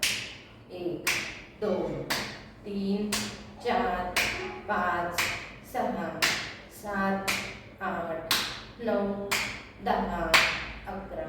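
Repeated hand claps during a chest exercise routine, with arms swinging to clap in front and then behind the back, landing in a steady rhythm about once per second while a voice counts aloud over them.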